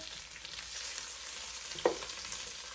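Cabbage sautéing in a pan with steady, continuous frying sizzle, with one brief utensil scrape or clink near the end.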